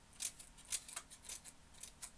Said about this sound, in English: I can even take my scissors and slice up along that edge